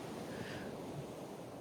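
Ocean surf washes steadily on a beach, a soft continuous roar of breaking waves mixed with wind rumbling across the microphone, faint and unbroken throughout.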